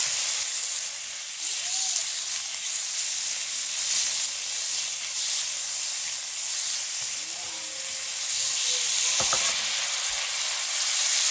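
Diced meat sizzles in a hot wok with ginger, a steady loud hiss of frying throughout, broken by occasional scrapes and stirs of the spatula.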